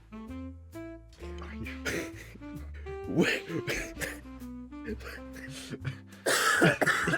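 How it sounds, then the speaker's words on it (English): Repeated coughing bursts mixed with throat clearing, fairly close, over a steady background of music with a melody line. "Oh, you're coughing."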